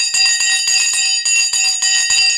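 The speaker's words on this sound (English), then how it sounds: "The bell has just gone." An opening bell rings at the market open, a loud, sustained metallic ringing pulsing in steady rapid bursts for the full length, with no voices.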